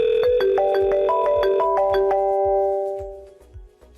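A melodic phone ringtone for an outgoing 3CX VoIP call on a FreePBX server, a repeating pattern of bright tonal notes with steady low pulses underneath, loud and close, fading out near the end.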